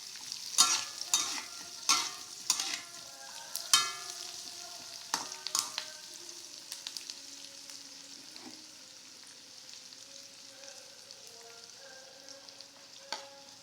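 Telang fish frying in a pan and being stirred, with sharp scraping strokes in a quick run at first, then a softer ongoing sizzle with occasional taps, close and fairly quiet.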